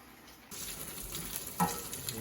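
Bacon fries in a pan with a steady broadband sizzle, louder after the first half second, with one brief sharper crackle near the middle; no one talks over it.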